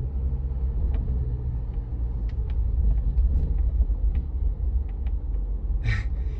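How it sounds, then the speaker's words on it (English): Ford Bronco with a manual transmission spinning donuts in two-wheel drive, a steady low engine rumble with faint tire noise and scattered clicks throughout, close and continuous with no talking. "I am in two-wheel drive, not four-wheel drive, and I am going all the way to the left. I'm not even putting on the brake right now. I am just doing a donut."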